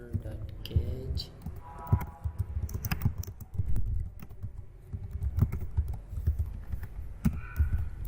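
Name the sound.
typing code on a computer keyboard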